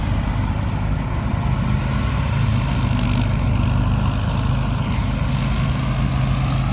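A rice harvester's six-cylinder Hino JO8C diesel engine with a tuned diesel pump runs steadily in a paddy field, a constant low rumble at an even, unchanging level throughout, with no talking.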